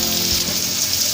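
Chopped onion frying in hot mustard oil over a low flame, giving a steady, close sizzle and crackle that runs evenly throughout without any talk.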